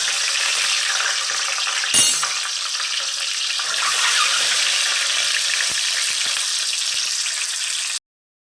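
Eggs fry in hot oil for country-chicken egg curry, a steady dense sizzle running almost the whole time with a brief clatter near the start, then cutting off abruptly near the end.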